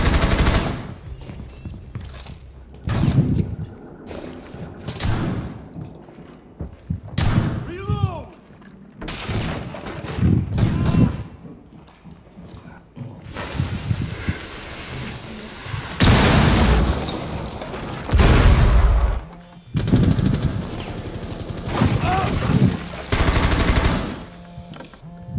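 Gunshots strike the side of a vehicle in rapid, sharp bursts, loud and close. Shouting voices sit between and over the shots.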